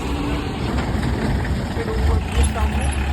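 A Mahindra tractor fitted with a Kirloskar engine and upgraded hydraulics runs steadily nearby, a low continuous rumble with a rough throb, while someone talks over it.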